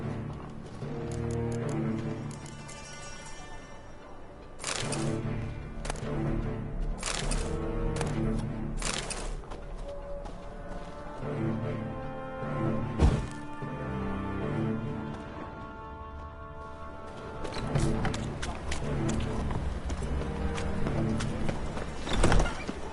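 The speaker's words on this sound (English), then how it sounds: "Come on, Roach" Horse in the video game Witcher 3 galloping in bursts of rapid hoof clip-clops with neighs mixed in, loud and near, pausing between runs.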